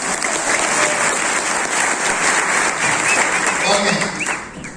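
Audience applause at a business seminar in Malappuram, a dense, steady wash of many hands clapping for several seconds, easing slightly at the end.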